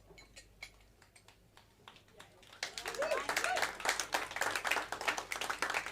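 Applause from a live concert audience breaks out midway, a burst of dense clapping that grows loud and close after a quieter stretch of scattered sounds.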